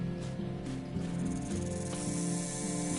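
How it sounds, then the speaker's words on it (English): A snake hissing in the survival game Stranded Deep, a sustained hiss and chirring layered over tonal game ambience and music, moderately loud with no speech. "Oh, I hear a snake."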